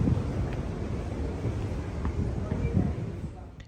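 Wind buffets the open deck of the P&O cruise ship Iona, a low steady rumble of gusts blowing across the microphone, fairly faint, with a few soft knocks along the way.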